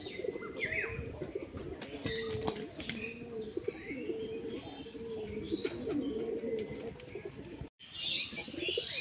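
Pigeons kept in a loft coo in low, repeated throaty rolls, with scattered chirps and a brief flutter of wings, fairly close but faint.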